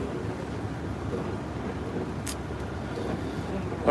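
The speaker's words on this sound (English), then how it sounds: "There's more cars coming." Cars passing on a snowy road during a winter storm, a steady low traffic rumble and tire hiss with no distinct single pass, fairly close and continuous.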